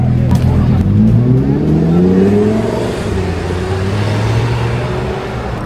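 Cars drive along a busy street in Frankfurt, with a loud, steady traffic roar, engines revving and rising in pitch as vehicles pass close by.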